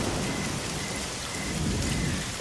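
Steady heavy rain hisses over a deep, continuous rumble of thunder, loud and close, with no voices.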